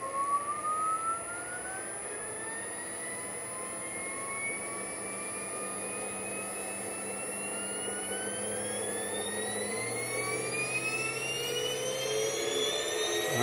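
Electric motor of a Porsche 924S EV conversion revving up, a thin high whine that climbs steadily in pitch over several seconds with rising harmonic tones, heard alone without speech.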